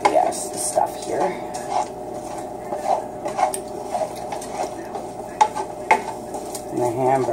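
Garlic sizzles and fries in a pan with occasional stirring and utensil clinks against cookware, with a voice talking over it.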